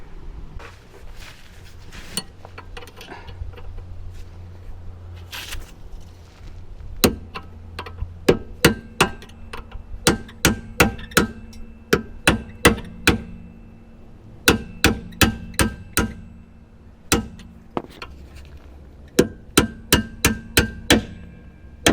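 A hammer tapping a rear shock absorber part free on a car, near the brake drum: a long series of sharp metallic clanks, sparse at first, then rapid and regular, close and loud over low background noise.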